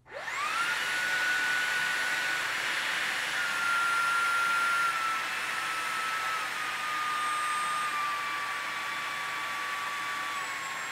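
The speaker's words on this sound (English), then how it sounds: "But here come the medium modes on both of these vacuums." A Shark Detect Pro or Dyson V11 cordless vacuum runs on medium mode. Its motor spins up fast into a steady high whine and airflow hiss, then drops slightly in pitch about halfway through and holds there.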